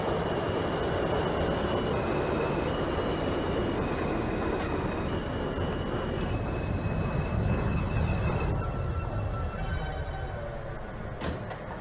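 Subway train running steadily in the OpenBVE simulator, an R160B Alstom F train bound for Queens, with continuous loud rumble and rolling noise, tonal motor whine steps, and a brief squeal near the end.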